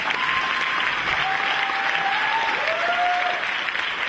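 Audience applause at a live French show, a steady close wash of clapping with a few faint voices rising over it.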